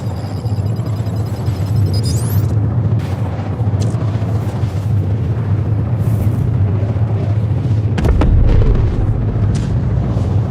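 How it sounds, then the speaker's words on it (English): Bombs dropped from a Retaliator bomber in a space combat video game burst in a sustained rumbling barrage of deep explosions, with a heavier boom near the end over continuous low engine drone. "you got the bombs and they go boom!"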